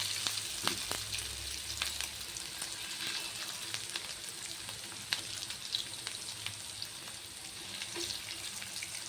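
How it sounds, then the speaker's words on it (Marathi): Pumpkin vadi pieces frying one by one in hot oil, a continuous bright sizzle with sharp crackles and occasional pops, steady and fairly close, with no talking. "आता आपण तापलेल्या तेलामध्ये आता आपण हे वडी एक एक सोडणार आहोत"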